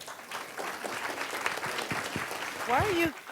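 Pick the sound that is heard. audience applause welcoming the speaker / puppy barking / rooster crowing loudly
audience applause welcoming the speaker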